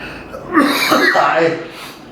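A single sharp cough bursts out close to the microphone, a brief harsh explosive breath that trails off quickly.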